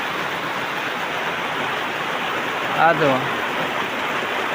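A sudden rain shower gives a steady, dense hiss that fills the whole clip, with a short burst of nearby speech partway through.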